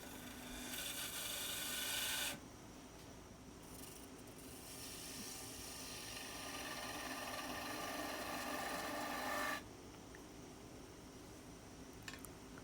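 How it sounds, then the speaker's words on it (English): A bowl gouge cuts a wooden mushroom stem on a wood lathe, a faint steady scraping hiss in two long stretches with quieter spinning between them and no speech. "We're just working on getting the stem at this point, getting rid of some waste wood."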